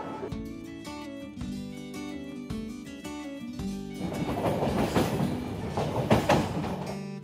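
An Indian passenger train heading from Kolkata toward Benaras runs along steadily, with rhythmic clickety-clack wheel beats and a rising, rumbling rush of rail noise heard from onboard.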